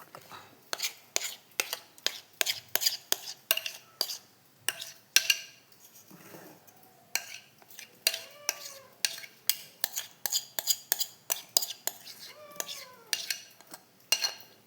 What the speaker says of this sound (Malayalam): ഇതിലേക്ക് ഇളക്കിയിട്ട് പകർത്താം നമുക്ക്